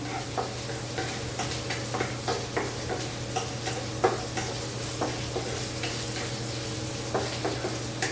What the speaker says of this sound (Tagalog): Pag-browning natin.